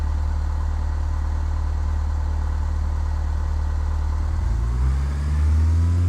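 Cessna Skyhawk single piston engine at full throttle for the takeoff roll in Flight Simulator 2004, a loud steady drone that holds through the clip, then rises in pitch near the end as power builds.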